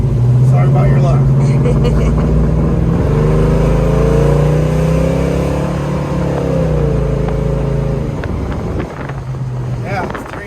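A 1970 Chevrolet Chevelle SS exhaust drones loud and steady while the car is being driven, with a deep engine rumble and wind buffeting throughout.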